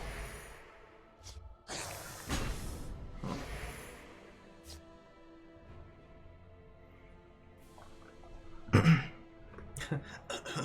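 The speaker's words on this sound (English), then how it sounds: "I gotta clear my throat" A person clears their throat with rough, harsh bursts, a couple early and a louder, closer one near the end, separated by quieter stretches.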